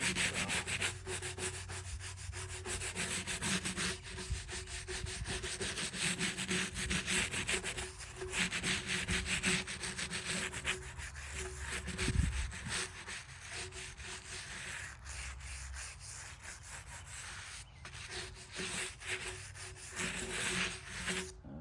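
A grave marker is scrubbed by hand with a brush in continuous, close, rhythmic rasping strokes that run for about twenty seconds with no talking.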